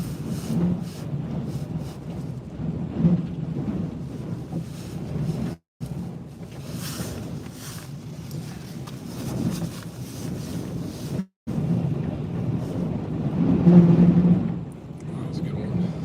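An 83 mph wind gust roaring through the Columbia River Gorge in a winter storm, a continuous loud rushing that builds toward a peak late on, with brief dropouts and a voice speaking over it.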